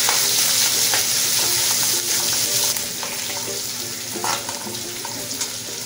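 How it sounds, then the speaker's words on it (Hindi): Chopped onion fries in a pan for pulao, giving a continuous close sizzle while it is stirred, with scraping and occasional clinks of the spoon against the pan. "तभी मैं इसमें प्याज डाल देती हूँ"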